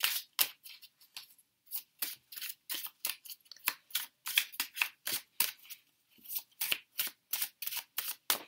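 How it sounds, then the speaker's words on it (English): Tarot cards are shuffled by hand in quick, crisp riffling bursts, close and clear, repeating in an uneven rhythm with short pauses and no talking. "I'm going to start by shuffling and then I'm going to cut the cards"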